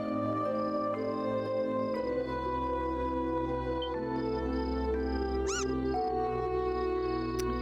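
Cat meowing inside the video game Trails in the Sky, a few short mews heard over steady game music that runs the whole time.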